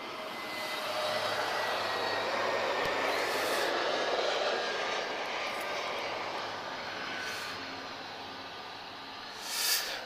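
An Airbus A321neo airliner arriving from London Gatwick at Lisbon Airport, heard as a steady broadband jet roar holding at moderate level for about ten seconds, with a brief louder swell near the end and no talk.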